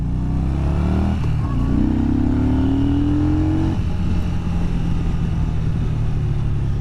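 A 2020 Yamaha Bolt R-Spec cruiser motorcycle engine revs up through the mid RPM range, rising in pitch and then dropping back to a steady rumble, loud and close.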